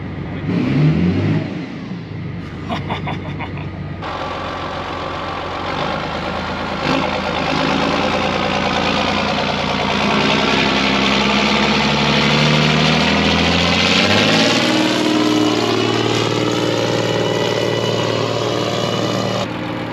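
A heavy John Deere 8520 tractor engine with straight-piped exhaust idles steadily with a deep, throaty rumble, loud and continuous, echoing slightly inside a building, with a brief rev at the start.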